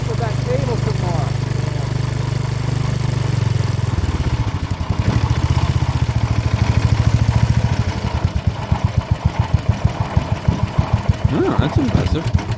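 The engine of a 1970 Sears Suburban garden tractor, which has a questionable carburetor, runs unevenly: a steady hum settles into a rough, chugging idle with rapid regular pulses. It is loud and close, and people talk over it.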